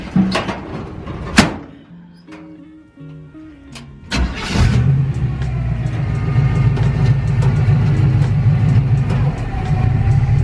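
A car engine starts with a few clunks and a door sound, then settles into a steady, close idle and rolling rumble as the car creeps forward at a Japanese garden.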